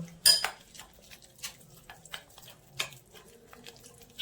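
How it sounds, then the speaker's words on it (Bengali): A spoon stirs paneer kabab marinade with mustard oil in a bowl, giving a few scattered clinks and soft scrapes at close range, with a sharper knock near the start and quiet pauses between strokes. "এবার এটাকে মিক্সড করে নেব"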